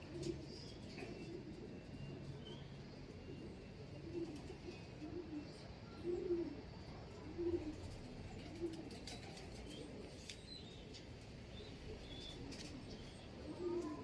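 Soft, low pigeon coos repeat every second or two over a steady outdoor hiss, with faint birdsong above and no talking.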